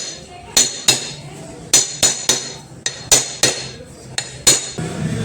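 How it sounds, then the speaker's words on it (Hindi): A hammer taps a Jeep self-starter body into place, giving about a dozen sharp metallic strikes in an uneven rhythm, close and loud, each with a short ringing decay. "थोड़ा हथौड़ी की मदद से इसको ठोकेंगे तो ये बैठ जाएगी"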